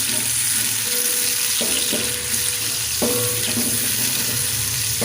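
A medium-sized onion frying in a pan, a loud constant sizzle with several sharp stirring scrapes and clatters, close up and without speech.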